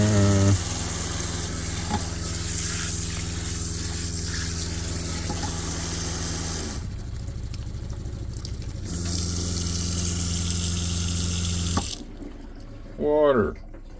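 Water pump drawing water out of a blue barrel, a steady rush of pouring and splashing water with a low motor hum, continuous for most of the span, briefly dropping in level, then cutting off near the end.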